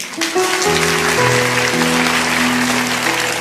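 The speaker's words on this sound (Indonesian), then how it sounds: "Ngasih tepuk tangan untuk Tuhan." Church congregation clapping during a sermon, a steady wash of applause mixed with sustained organ or keyboard tones underneath.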